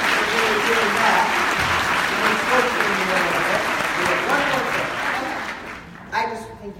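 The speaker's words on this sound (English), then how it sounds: "let's give a round of applause we need for her really doing that" Sustained applause from a conference audience, dense and loud throughout, with crowd murmur mixed in, fading near the end.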